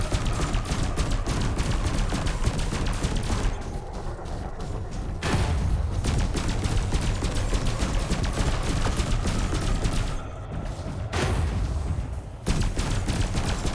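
Pulse lasers on a Fer-de-Lance ship in a space combat game fire in long rapid streams of close, punchy zaps, broken by brief pauses before each new volley resumes over a low engine rumble.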